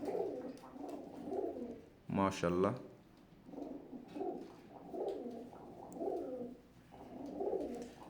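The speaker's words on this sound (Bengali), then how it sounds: "এগুলো ব্রিডার কবুতর, বাসার ব্রিডার কবুতর" Imported Teddy breeder pigeons cooing in a home coop, a steady run of low soft coos close by, briefly interrupted by someone speaking a single word.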